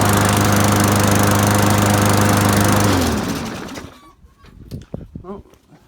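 A Yamaha Banshee engine runs loudly for about three seconds, then winds down and cuts out. Scattered knocks and a few voice-like sounds follow in the quiet after it stops.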